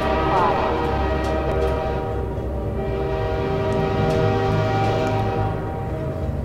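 A train in Half-Life 2 rumbles past along a canal with a steady, heavy drone and a long horn-like tone, loud and close, with a voice briefly speaking over it.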